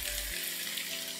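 Chicken pieces fry in a pot with a steady, close, continuous sizzle and a brief low rumble at the start; no one speaks.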